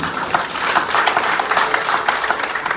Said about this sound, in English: Give them a lovely round of applause, please.